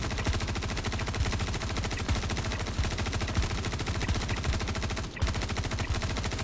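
Sustained rapid gunfire in Star Citizen, a dense automatic stream of shots with a brief gap near the end, loud and continuous with no talk.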